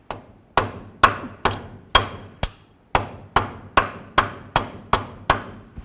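A hammer strikes a pinion seal into the axle of a 1998–2012 Ford Crown Victoria, about a dozen sharp, close metallic blows at a steady rhythm, each ringing briefly, with no talk.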